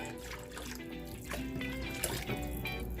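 Chicken stock is poured into a pot for creamy tomato tortellini, a soft, quiet trickling splash of liquid running steadily for a few seconds in a kitchen.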